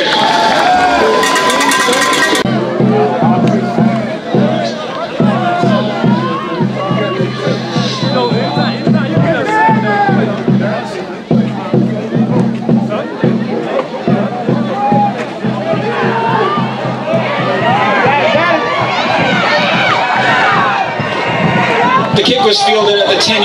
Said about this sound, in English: Come on, crowd, let's hear it.